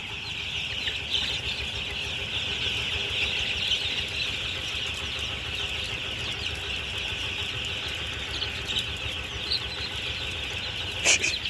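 Chickens in a Thai backyard coop, a steady busy chorus of clucking and chatter with occasional wing flaps, continuous and moderately near, no talking.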